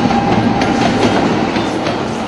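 A train rolls through a railway crossing in Nawabshah, a loud steady rumble with faint rhythmic clacking of wheels, close by and without voices.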